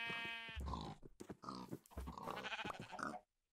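Sheep bleat in a blocky survival video game, several wavering, nasal calls in quick succession, fairly close and moderately loud, with short pauses between them and nothing else playing over them.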